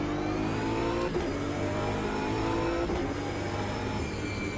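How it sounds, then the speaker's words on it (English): A BMW race car in the racing game Automobilista 2 drones loudly and continuously through a cool-down lap, its engine holding a steady mid-pitched tone with slight rises, and no talking over it. "Gives me one more chance to hear the cool sound of the BMW."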